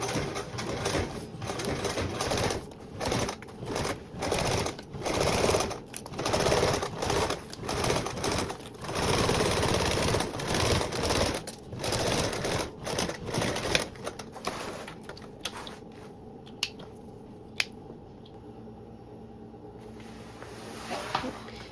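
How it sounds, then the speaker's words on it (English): A sewing machine stitches the main connection seam of a tote bag, running in quick uneven bursts up close for most of the stretch before stopping, leaving a few faint clicks and handling sounds. "So you're doing your main connection seam now."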